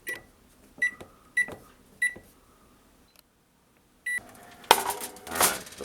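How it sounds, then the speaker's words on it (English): Kitchen timer on a stove while cooking chicken: four evenly spaced sharp electronic beeps, then silence, another beep, followed by louder clattering and hissing kitchen noise. "the 5-minute timer went off"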